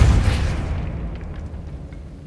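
A Depulso spell goes off in Hogwarts Legacy with a loud, sudden blast at the start that rolls off into a fading rumble over a couple of seconds.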